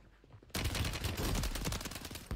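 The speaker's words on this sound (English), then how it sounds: "Shots." Rapid gunfire in the video game Supreme Resurgence bursts in abruptly after a quiet moment, a loud sustained stream of closely spaced shots continuing to the end.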